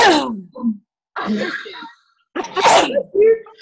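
Loud nearby sneezes in quick succession, with groaning vocal sounds between bursts and short silent gaps.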